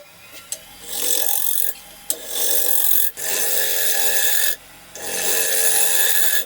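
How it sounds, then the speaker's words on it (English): A wood lathe faces off the surface of a dry wooden platter, a tool scraping the spinning blank in loud broadband bursts separated by short pauses, with no talk. "The first step, we're going to face off the surface, get rid of all these little ridges."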